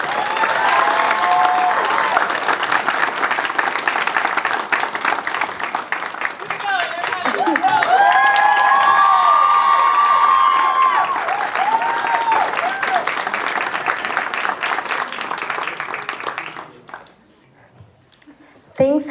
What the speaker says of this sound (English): Let's give our Youth of the Year finalists one more round of applause and bring them on stage.